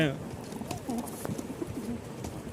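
A male pigeon coos nearby in a few soft, rolling calls, partly under a person talking.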